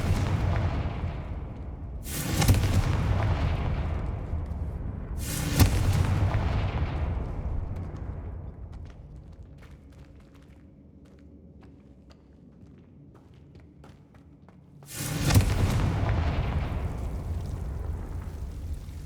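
Three heavy, booming Confringo spell blasts in the Hogwarts Legacy video game, loud and close, each with a sharp onset and a long rumbling decay, spaced a few seconds apart with quieter ambience between.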